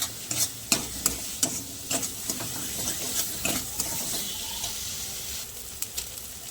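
Garam masala is stirred into a Bengali fish curry in a hot pan, with sharp repeated scraping clicks of a spoon against the pan over a soft background sizzle and hiss, irregular strokes close up.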